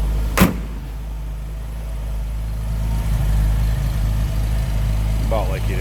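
A 1931 Chevrolet Independence five-window coupe's stove bolt six-cylinder engine idles with a low, steady rumble, broken by a sharp click early on and a brief voice near the end.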